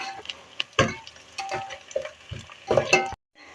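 Cinnamon, black and green cardamom and cloves tossed into frying onions, with spoon taps and stirring clatter over a light sizzle, a few sharp knocks, then a brief silence at the end.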